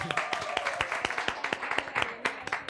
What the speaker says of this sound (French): On applaudit encore pour lui.